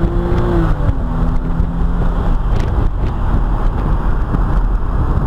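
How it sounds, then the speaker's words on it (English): Engine of a Porsche 911 S Cabriolet (997) accelerating hard, a loud continuous roar with rising tone and strong wind rush, close to the microphone with no talking. "So let's have a little listen to the engine, and you can see it's got amazing acceleration"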